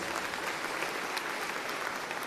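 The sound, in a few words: audience applause for sponsors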